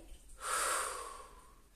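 A single long, close exhale, breathy and fairly quiet, comes from someone holding a plank during a Pilates-style fitness exercise. It rises quickly and then fades slowly.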